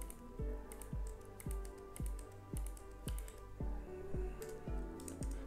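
Steady typing on a computer keyboard while entering an Excel VBA formula, with rhythmic key taps and a few sharper clicks, close and clear and heard alone without talk.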